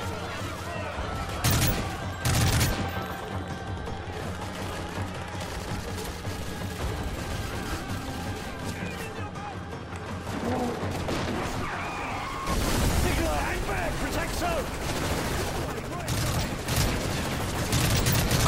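Call of Duty Modern Warfare 3 combat sounds with a steady rumble of machine gun fire and scattered sharp shots, growing denser and louder near the end, with occasional voices.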